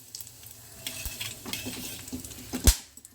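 Whole cardamom, cloves and cinnamon hit hot oil in a pan over a low flame, giving a soft sizzle with light stirring and a few sharp metallic clinks, one louder clatter near the end.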